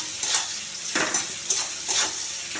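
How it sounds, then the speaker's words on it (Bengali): Onions fry in a pan in a home kitchen, a steady sizzle broken by several scraping strokes of a spoon stirring them, close and without talking. "পেঁয়াজগুলো ভাজা ভাজা হয়ে গেছে"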